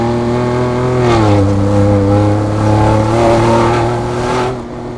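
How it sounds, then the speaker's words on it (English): A 2021 Ford Bronco Badlands Edition with a MagnaFlow exhaust revs loud and close, its deep throaty engine note swelling and dipping through a couple of revs before easing off, with no talking. "you're definitely gonna hear it, is a MagnaFlow exhaust"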